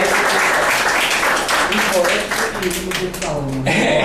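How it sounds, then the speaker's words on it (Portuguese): An audience at a gathering of writers and artists claps loudly and steadily, with a voice speaking over the applause partway through. "então uma salva de palmas para Cephas"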